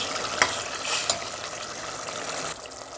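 A spoon gently stirs koftas through a simmering masala, producing a soft wet bubbling with a few light scrapes and taps close by.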